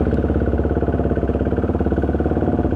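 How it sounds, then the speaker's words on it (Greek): A KTM Duke 390 motorcycle with a BlackWidow exhaust thrums loudly and close while being ridden, a rapid, evenly pulsing exhaust note that holds steady throughout. "Ελπίζω να μην κάνει πάρα πολύ φασαρία η εξάτμιση και δεν ακούτε τι λέω."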